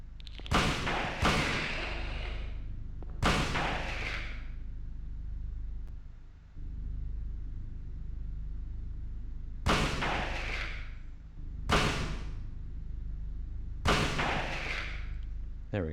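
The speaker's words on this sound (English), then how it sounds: "And shotgun it." Shotgun blasts in the 1999 Silent Hill video game: about six loud, sharp booms with short decaying tails, two in quick succession at the start and the rest spaced a few seconds apart over a low steady game hum.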